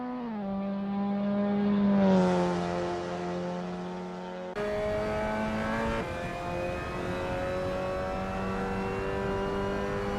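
A Mazda MX-5 Cup race car in Assetto Corsa at Belle Isle drones steadily and close by, its engine note rising under acceleration, dropping abruptly with a gear change, then holding a strong even pitch.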